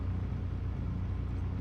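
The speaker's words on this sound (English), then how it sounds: "that looks kind of loud for the engine sound" DRM race car engine in Assetto Corsa, a steady loud low droning hum held without clear revving.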